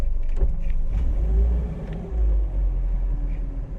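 A 2013 Tahoe Q4 boat with a MerCruiser 3.0 engine runs with a deep, steady low rumble that swells and eases in small surges, close and continuous.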